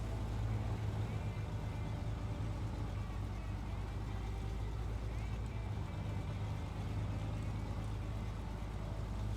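A logging truck in the SnowRunner video game drives unloaded with a loud, steady engine drone and rumble that continues without a break.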